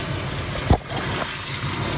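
A 1971 Oldsmobile Cutlass Supreme Convertible engine idles with a steady, low rumble, even and close by, with one brief thump partway through and no voices.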